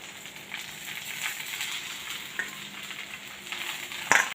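Garlic and onion browning in a pan, giving a steady close sizzle and hiss with light stirring, and a sharper clatter right at the end.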